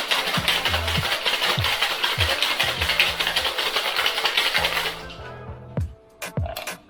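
A cocktail shaker packed with ice and muddled raspberries is shaken hard for about five seconds, a dense steady rattle of ice against metal, close and loud, then stopping, leaving a few knocks and clinks under quiet background music.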